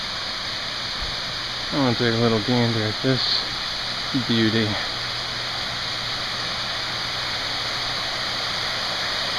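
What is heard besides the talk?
Lucifer Falls waterfall, 115 feet high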